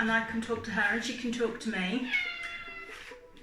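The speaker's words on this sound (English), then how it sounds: "That's a cat again." A cat meows in drawn-out, tonal cries while a person speaks at the same time close by, the meowing and voice overlapping throughout.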